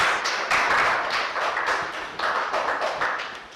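A quiz-show audience gives a contestant a short round of applause, a few seconds of fairly close, uneven clapping that swells and thins.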